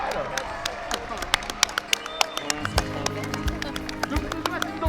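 A crowd claps and cheers for a cardboard boat race team at Douarnenez, France: scattered, uneven claps come through outdoors under steady talking and background chatter.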